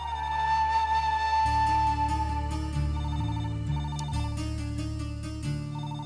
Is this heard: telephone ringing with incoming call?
yes